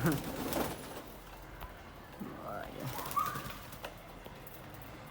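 Pigeons coo softly in a loose flock while a stray pigeon arrives among them. Scattered low calls, some rustling and faint bird sounds come through, and a person speaks and laughs nearby.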